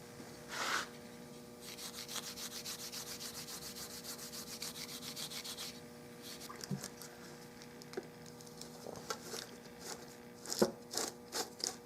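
Scotch-Brite pad rubbed over a 1906 Winchester Gallery Gun stock to work in finish, giving soft, steady scrubbing strokes in a long run, then a few sparser, quieter rubs with occasional small knocks.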